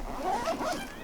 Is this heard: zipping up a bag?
yes